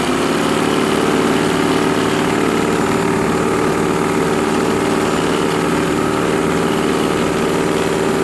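A leaf blower's small engine runs steadily and loudly close by, a continuous droning buzz with no pauses and no talking.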